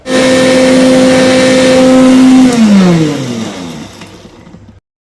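An electric mixer grinder blends five herbs for hair oil, its motor whining loud and steady at close range, then slowing and dropping in pitch as it winds down to silence.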